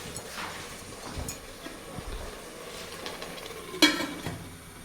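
Chicken biryani is stirred in a pot over the heat, giving soft scraping and faint sizzling with a sharper clink near the end.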